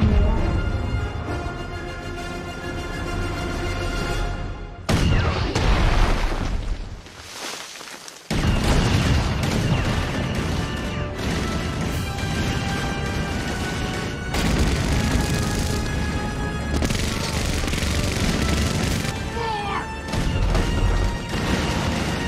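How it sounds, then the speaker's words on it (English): Heavy weapons gunfire and explosions in the Fallout 76 video game fill the scene with dense, loud bursts of firing and booming blasts, broken by a short lull before the barrage resumes with no talking. "I want every gun we have to fire on that man."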